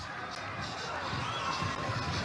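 A stadium crowd cheers and roars steadily throughout at a Maryland versus UCLA men's soccer match, a dense, continuous wash of voices from a record crowd with scattered shouts rising above it.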